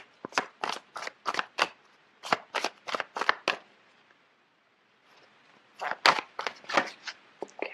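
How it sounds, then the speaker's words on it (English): Tarot cards are shuffled in quick, crisp riffling bursts that repeat rhythmically at close range, stop briefly for a near-silent pause, then resume with more brisk shuffling and snapping as a card is drawn. "let me just pull out a card"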